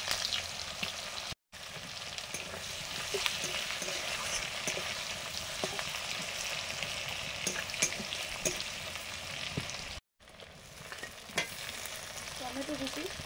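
Chopped onion frying in oil with whole cumin and whole garam masala for a cabbage curry, a dense continuous sizzle close by with occasional stirring taps, briefly cut off twice.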